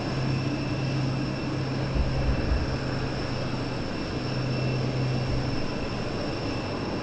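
Small Cessna propeller plane droning steadily overhead near Southend Airport, a continuous distant engine hum with a low tonal buzz, no voices.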